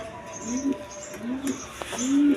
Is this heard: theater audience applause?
no